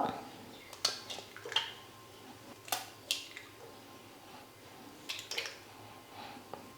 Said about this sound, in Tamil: நான் ஆம்லெட்டுக்கு 3 முட்டை எடுத்துக்கிறேன். இதை உடச்சி ஒரு பாத்திரத்தில் ஊற்றிக்கலாம்.